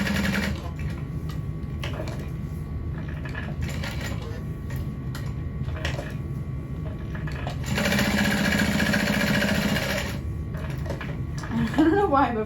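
A sewing machine top stitches a folded backpack piece, running in bursts of rapid needle chatter with a louder sustained run near the middle, and a voice talks over parts of it.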